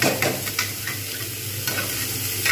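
Potato, onion and cauliflower frying in a pan, a bright continuous sizzle with a few spatula stirring knocks at the start and again later, close and fairly loud, no talking.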